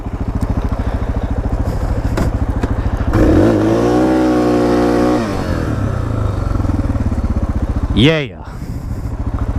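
A Suzuki DR650 dual-sport motorcycle idles loudly close by, then revs up in a sustained burnout before easing back to a rumbling idle, with a brief sharp rev spike near the end and a short spoken word.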